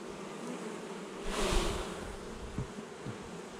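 A colony of honeybees in a Home Hive buzzes with a steady, close, even drone during a comb inspection, swelling briefly about midway, with no talking.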